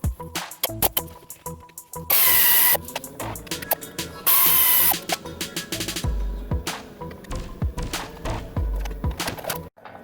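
A 15 mm wrench loosens the brake caliper bolts on a Buick Rendezvous during a wheel bearing job, giving a run of close, sharp metallic clicks and ratcheting turns. Two longer bursts of grinding noise interrupt the clicks, and nobody talks.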